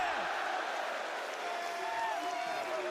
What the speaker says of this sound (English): The crowd will roar